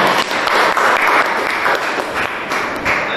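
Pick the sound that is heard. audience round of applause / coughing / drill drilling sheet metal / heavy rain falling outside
audience round of applause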